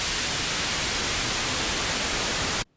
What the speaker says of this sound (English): We'll select white noise here and start it up.